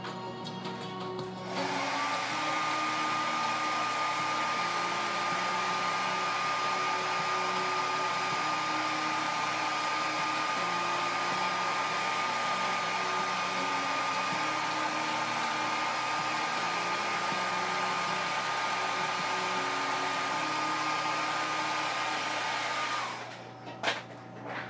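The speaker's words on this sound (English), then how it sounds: "Let me blow dry it." A hair dryer blows steadily on wet paint on a Jubilee X-Men model kit, a loud continuous whir with a constant whine that holds for over twenty seconds before switching off.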